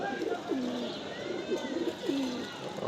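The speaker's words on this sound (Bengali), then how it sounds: "মাদি কবুতরগুলো ছাড়ছি, অল্প কিছু মাদি কবুতর আছে, এখানে গোসল করতেছে" Female pigeons bathing after a long spell shut in, giving repeated soft, low coos in a steady rhythm from close by, with no talking.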